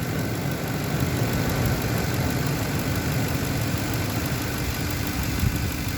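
A truck engine idles while running off its alternator, with the negative battery terminal disconnected because of a faulty battery; a steady, close, dense mechanical drone holds unchanged throughout.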